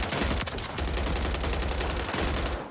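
Rapid, dense automatic gunfire from a Striker weapon in a Rebirth Island shooting game pours out continuously at close range, loud, with a brief dip midway before the burst tapers off.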